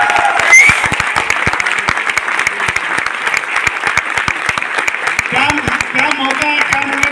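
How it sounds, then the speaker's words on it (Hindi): Audience in Delhi applauding a couple on their wedding anniversary, loud sustained clapping with sharp individual claps up close, and a few voices calling out under it toward the end. "एक बार तालियां बढ़िया से"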